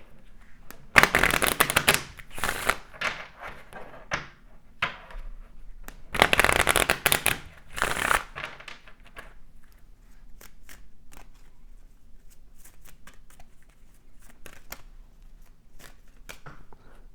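Cards of a Kipper Oracle deck are shuffled in two loud, riffling bursts of rapid papery flutter, followed by softer scattered card taps and handling noises over a quiet room.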